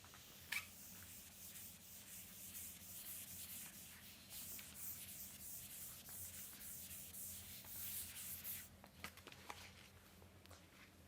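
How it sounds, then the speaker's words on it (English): Someone writes on a board during a mathematics lecture, producing faint, continuous scratchy rubbing strokes close by that run on with brief pauses and no talk. "let me write it on the left side"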